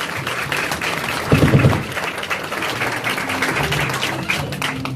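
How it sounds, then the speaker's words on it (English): Audience applause at a London tattoo art exhibition, a steady wash of clapping from a room full of people with a brief louder burst near the start, sustained at even level throughout. "can I have a round of applause for everyone being here right now?"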